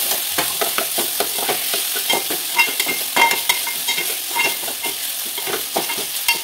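Chopped potato frying with masala rice in a pan, a loud close sizzle broken by repeated scraping stirs in an uneven rhythm, with no voices.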